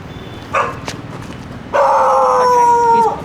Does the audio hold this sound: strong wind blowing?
no